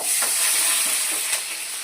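Mustard seeds pop and sizzle in hot oil in a home kitchen, making a loud, close, continuous frying crackle with a few brief sharper pops and no talking.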